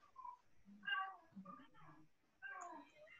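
A hungry cat meows repeatedly indoors in short, drawn-out cries with pauses between them, quiet and fairly close, with no talking over it.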